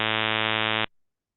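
Synthesized impulse-train buzz imitating male vocal folds: a steady, loud, harmonically rich drone at a low male pitch that holds evenly for under a second, then cuts off abruptly into silence.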